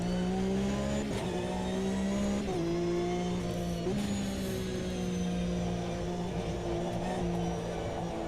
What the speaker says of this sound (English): You can hear the car